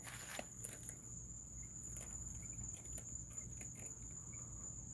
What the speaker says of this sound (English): Those are Cuban tree frogs.